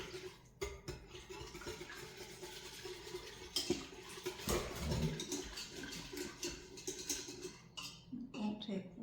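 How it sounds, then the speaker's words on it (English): Gravy mix being stirred in an Instant Pot on its keep-warm setting, a utensil scraping and clinking against the metal inner pot in steady strokes, close and fairly quiet, with a few louder knocks. "I'm just going to stir this gravy mix in here."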